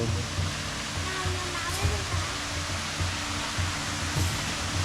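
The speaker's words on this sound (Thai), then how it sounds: "ตรงนี้ก็จะมีน้ำตกด้วย" A waterfall at Ubon Ratchathani zoo roars as a steady, dense wash of rushing water, constant and close throughout.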